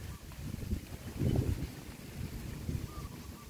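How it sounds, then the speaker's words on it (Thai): Strong wind gusts across the edge of a field and buffet the microphone with a steady low rumble. The rumble swells briefly near the middle and then carries on unbroken throughout. "บรรยากาศลมแรงมากเลยค่ะ"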